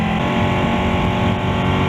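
A 2018 Ducati Panigale 899 motorcycle engine pulls steadily under load, a dense, continuous roar held at fairly low revs, loud and close with no voices over it.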